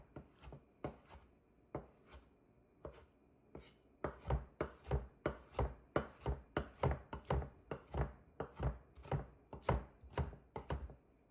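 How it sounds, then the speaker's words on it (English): A knife roughly chops drained roasted red peppers on a board, with a few sparse cuts that give way to a steady, fairly rapid run of close, crisp chops. "I am now roughly chopping them just to prep them"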